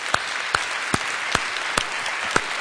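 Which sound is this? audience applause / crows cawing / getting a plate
audience applause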